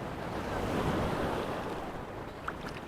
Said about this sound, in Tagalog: Laki ang alon.